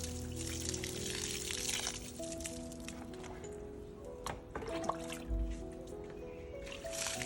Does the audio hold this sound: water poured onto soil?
yes